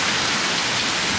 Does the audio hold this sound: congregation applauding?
no